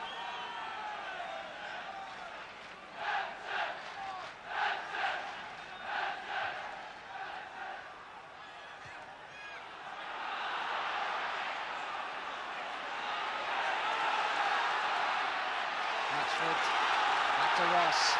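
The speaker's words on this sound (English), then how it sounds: "The crowd beginning to urge Everton forward." A football crowd at Goodison Park in February 1979, Everton against Bristol City in League Division One, roars and chants to urge Everton forward, with rhythmic chanting early that swells into a louder sustained roar.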